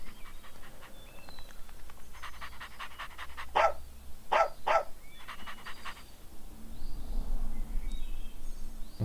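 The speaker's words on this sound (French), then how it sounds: "On va avoir uniquement l'action d'aboyer, donc barking." A video game avatar dog barks in a short burst of several sharp woofs, with panting and faint background noise before and after.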